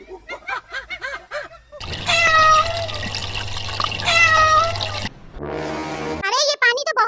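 A cartoon cat meows several times, stuck on a roof amid floodwater; the cries come in short bursts between stretches of splashing, flowing water and some background music.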